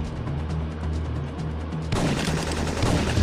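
Rapid gunfire in the video game Syphon Filter 3, a steady stream of automatic shots over a low rumbling background that swells louder about halfway through.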